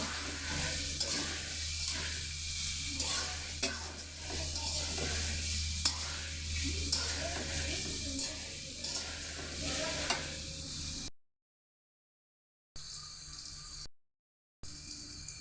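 Fried rice ingredients with capsicum are stirred in a hot pan, giving a steady, close sizzle with rhythmic spatula scrapes. The sound cuts out briefly twice near the end, and no talk is heard.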